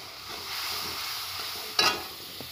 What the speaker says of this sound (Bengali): মশলাটা আমি ভালো করে কষিয়ে নেব